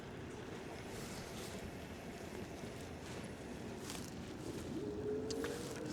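Steady headwind buffets the microphone while riding a Sondors Thin ebike on throttle only, making a constant loud, rushing roar with no break for the whole stretch.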